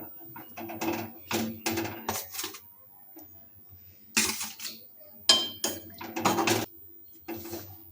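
Salt-and-turmeric-coated hilsa fish pieces being placed onto softened eggplant in a pan, heard as bursts of clattering clinks and knocks with short quiet gaps between them, close by.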